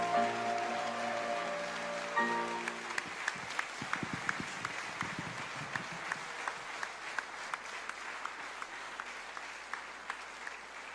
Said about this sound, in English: I know you want to give her another round of applause